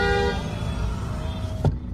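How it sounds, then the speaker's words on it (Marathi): Busy main-market street traffic with engine rumble throughout and a short, loud car horn toot near the end. "मेन मार्केट आहे आमचं, त्यामुळे ट्रॅफिक बघा."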